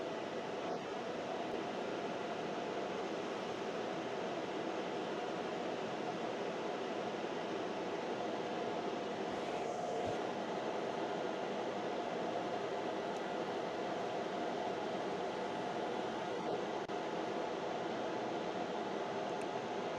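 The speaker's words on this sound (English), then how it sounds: "You can hear the exhaust fan kick up now." Exhaust fan on an Aurora Lite laser engraver runs as a steady, even whoosh of broadband airflow with a faint hum, constant and unbroken throughout, fairly close, no speech.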